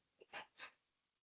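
A single quiet sneeze during an online maths class recording, a short sharp inhale followed by two soft bursts, faint and alone with no talk over it.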